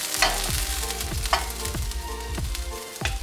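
Chopped garlic sizzles in a hot pan while a utensil scrapes and stirs it in regular strokes, a steady frying hiss punctuated by about six distinct knocks and scrapes, close and clear with no speech.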